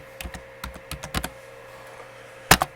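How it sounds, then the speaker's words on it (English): Short bursts of keystrokes on a computer keyboard as a command is entered at a Windows prompt, irregular clicks clustered early, a pause, then two sharp final taps near the end, close and alone. "If you type in ipconfig"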